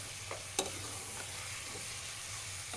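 Chopped onion, about three ounces, and a couple pinches of salt fry in a lightly oiled pan for chili verde, a steady quiet sizzle with a few soft clicks of stirring and one sharp tap near the start.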